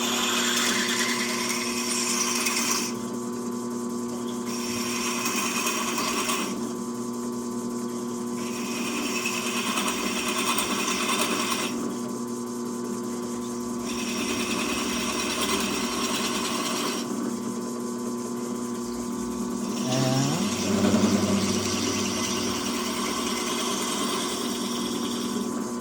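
A drill press motor whirs steadily with a high, grinding whine that starts and stops in several bursts, its cutter biting into 351C rocker pedestals, with no talking.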